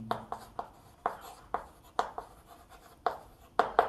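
Pen or chalk writing during a class 5 maths lesson, a series of short scratchy strokes at an uneven pace, close and fairly clear, with no talk over them.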